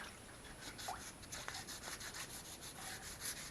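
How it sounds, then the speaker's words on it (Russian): Wet sanding with wet 600-grit sandpaper on a homemade flower-bed fence panel: a steady, close rasping rub, continuous with slight strokes. "Берем 600-ку, наждачку"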